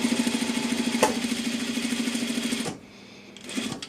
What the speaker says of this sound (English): I want you to just do an understitch close to that edge